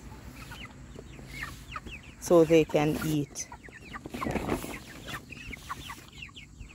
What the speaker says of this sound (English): this is our chickens that we have outdoor. These are meat birds.